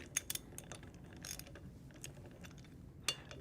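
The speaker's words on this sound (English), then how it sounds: "ratchet" A 3/4 inch ratchet loosens bolts on a globe valve during a rebuild, giving quick close clicking bursts with short pauses between them.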